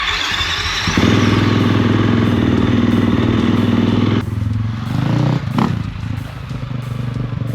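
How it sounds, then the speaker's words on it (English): A new motorcycle, running again after a spark plug swap on a farm, revs loud and close with a steady rough engine roar, then eases off and idles before picking up again. "First ride on his new bike."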